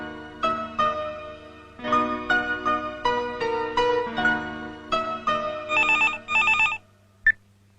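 A telephone rings with a melodic ringtone, playing a repeating electronic tune loudly and clearly, then cuts off abruptly after one last short tone.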